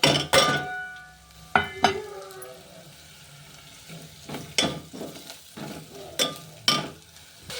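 Onion and ginger-garlic paste frying in a pan, with repeated sharp stirring clatters and scrapes over a low sizzle, loud close bursts spaced irregularly throughout.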